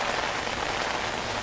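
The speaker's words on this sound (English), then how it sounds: "The rain has picked up in the past 10 to 15 minutes or so" Rain falls steadily outdoors during severe weather, a dense, even, loud hiss of drops hitting surfaces that continues without pause.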